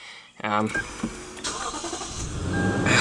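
A 2015 Lexus GX460 with a 4.6-liter V8 cranks briefly and catches, settling into a smooth, close idle that gradually swells, with a voice talking over it.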